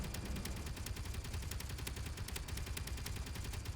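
Rapid weapon fire in the Space Engineers video game, aimed at a Star Wars TIE fighter, a continuous stream of sharp repeated shots with no pauses over a low rumble.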